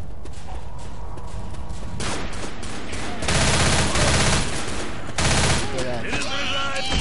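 Video game gunfire in Left 4 Dead: rapid bursts of shooting with louder, sustained volleys in the middle and toward the end, mixed with clattering game noise and faint voices.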